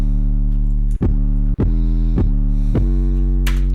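Heavy, distorted 808 bass notes sustain with a gritty buzz, punctuated by a few sharp percussive hits and brief dropouts, loud and upfront.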